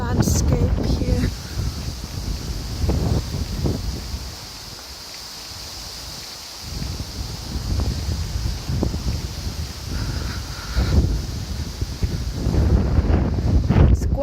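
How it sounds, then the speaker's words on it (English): Strong wind buffets a microphone in heavy rumbling gusts, easing briefly midway and then rising again, with leaves rustling faintly. "It's quite windy"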